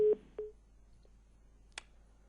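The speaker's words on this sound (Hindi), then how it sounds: "विशाल जी, फोन कट गया सुनीता का" A telephone line drops during a live TV call-in: two short tones and a faint click, then near silence.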